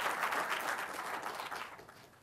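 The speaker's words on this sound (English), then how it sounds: "And you may give him some applause," A lecture audience claps for an incoming professor, a brief burst of applause that fades steadily over a couple of seconds with no speech.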